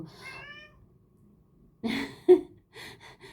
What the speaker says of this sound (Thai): น้องแมวบ่นไม่มีใครเล่นด้วยนะคะ